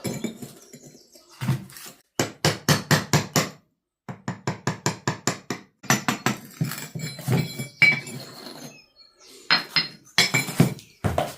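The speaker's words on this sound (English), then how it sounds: "Get this one out with the wide chisel." A wide chisel pries out old cottage floorboards with rapid runs of sharp metallic taps and knocks, then clattering, scraping and creaking wood, close and fairly loud with brief pauses.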